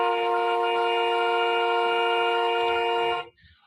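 A car horn blares in one long steady tone lasting about three seconds before cutting off abruptly, loud and close with no talking over it.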